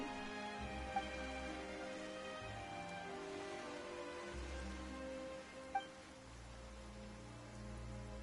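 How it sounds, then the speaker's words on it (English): Steady rain pouring down in a game scene, a soft continuous hiss under low droning music, with a couple of faint clicks. "Why is it raining all of a sudden?"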